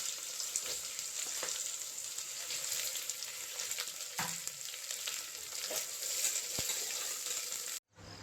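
Onions frying with ginger, garlic, cinnamon and cloves in a pan, a close steady sizzle with occasional stirring scrapes, cutting off abruptly near the end.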